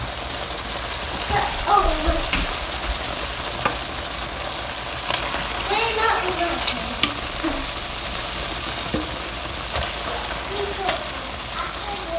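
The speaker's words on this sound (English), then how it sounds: "I'm going to go ahead and drop my chicken in." Chicken pieces dropped into a hot curry pot sizzle and crackle continuously for several seconds, a rain-like frying hiss with scattered pops and occasional stirring scrapes, close and moderately loud with no speech.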